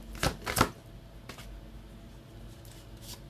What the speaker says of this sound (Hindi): बट मैं फिर भी अच्छे से शफल करके लूँगी।